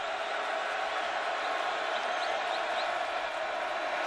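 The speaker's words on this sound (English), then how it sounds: "And the crowd is getting into it here." A football stadium crowd at a college game, Marshall against West Virginia, gives a steady roaring wash of cheering and noise with no distinct peaks, broad and distant-sounding throughout.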